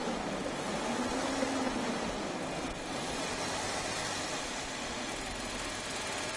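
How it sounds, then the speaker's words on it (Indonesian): A 2003 Toyota Kijang Kapsul engine runs at raised revs, a steady dense mechanical hum that rises slightly early on, then holds even and close with no voices over it. "Coba kita sedikit naikkan RPM, adakah suara janggal atau tidak?"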